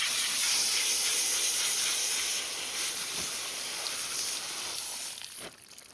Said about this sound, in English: I'm rinsing him to get the dirt out of there, to keep my knives from dulling faster